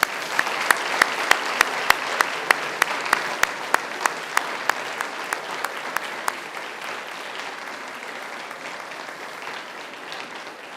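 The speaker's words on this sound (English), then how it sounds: "give them a mighty round of applause" Graduates at a Macquarie University graduation ceremony applaud their seated families and friends, a steady crowd clapping that starts with sharp distinct claps and settles into a dense, sustained wash of applause filling the hall.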